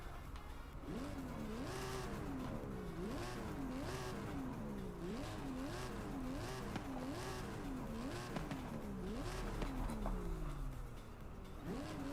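A 7.7-litre V12 car engine in Forza Horizon 5 being revved repeatedly, its pitch climbing and falling in steady cycles, fairly quiet and heard alone.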